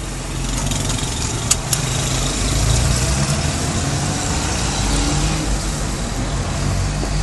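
A Mini Cooper with a manual gearbox idles as heard from inside the car, a steady low engine rumble throughout with a couple of brief clicks and no talking.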